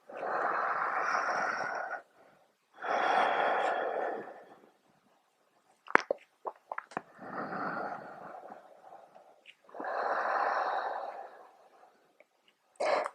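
Slow, deep breaths during a yoga downward dog pose, with long airy inhales and exhales separated by quiet pauses and a few small clicks of movement, close and soft.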